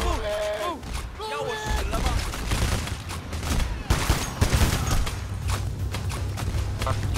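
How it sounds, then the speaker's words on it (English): Stray bullet gunfire in the Payday video game, a rapid fusillade of shots crackling over a steady low rumble and game background noise during an escort heist. "a stray bullet flies past and he shits himself and hits the deck"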